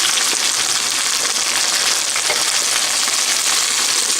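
Vegetables and chicken stock sizzle in a hot pan over a high flame for chicken jalfrezi, giving a loud, steady, close hiss of frying with no break and no voices.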